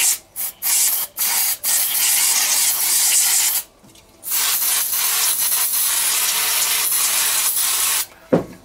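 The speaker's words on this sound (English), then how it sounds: "get the carb spray in there." Carburetor cleaner sprays onto the carburetor of a vintage Echo strimmer in several close, loud hissing bursts, a few short squirts followed by longer continuous blasts with brief pauses between them.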